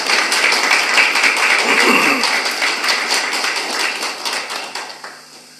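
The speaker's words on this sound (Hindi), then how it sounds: "जोरदार तालियों से अभिनंदन करें आप।" An audience at a yoga event claps loudly to welcome a guest onto the stage, a dense, even roar of hand claps that gradually thins and fades toward the end.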